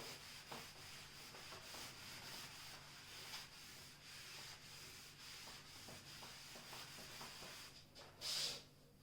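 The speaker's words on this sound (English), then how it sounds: "So I will erase here." Eraser rubbing writing off a board, with a series of scratchy, brushing strokes repeating steadily at close range and one louder, harsher swipe near the end. No one speaks.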